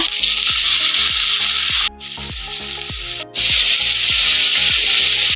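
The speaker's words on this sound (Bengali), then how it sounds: "এখন আমি এর মধ্যে দিলাম টমেটো কুচি এবার আমি ঘেটে নেব" Chopped tomato with garlic, green chilli and ginger paste being stirred in a pan, rhythmic scraping strokes over a steady sizzle, close and loud, no voices.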